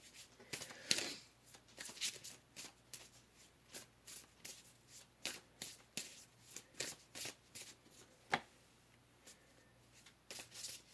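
A deck of tarot cards shuffled steadily over several seconds, soft repeated riffles and taps close by in a quiet room, with one sharper snap near the end and no speech.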